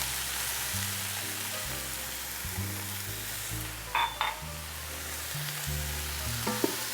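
Cumin and cinnamon frying in an Instant Pot while being stirred, steady sizzling throughout with brief metallic scrapes and clinks from the spoon, close up and without any voices.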